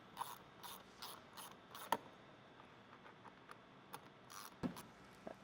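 A ratchet wrench with a 10 mm socket removes four bolts from the intake box of a 2003-2004 Mach 1. Short, quiet bursts of rapid clicking come and go with pauses between them, alongside a few sharper knocks.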